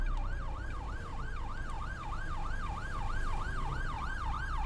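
An emergency vehicle in a video game sounds a wailing siren in a fast, regular up-and-down sweep, steady and prominent over a low engine rumble, with no talking.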